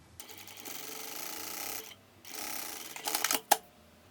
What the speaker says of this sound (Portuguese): E aí eu já vou aproveitar e pespontar aqui